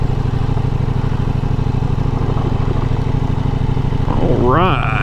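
An adventure motorcycle rumbles along a gravel road at a low, steady engine throb, a rider speaking over it, with a short burst of rising revs near the end.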